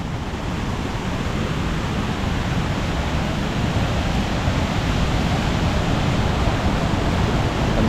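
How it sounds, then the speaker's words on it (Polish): A river splitting around a small island into two waterfalls in Mexico, heard as a loud, steady broadband rush of falling water that stays unbroken and constant throughout, with no voices over it. "ale fajne miejsce, bo się rzeczka ładnie o tą wysepkę rozdziela na pół"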